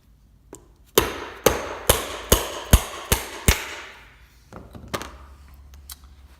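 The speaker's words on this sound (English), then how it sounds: "when you hit this one out, just try to guide this with your fingers and make sure you're hitting it nice and straight" A pin is hammered to knock out a bearing from a Santa Cruz bicycle frame. About seven sharp metallic blows ring out at a steady, close rhythm, followed by a few lighter taps and handling noise.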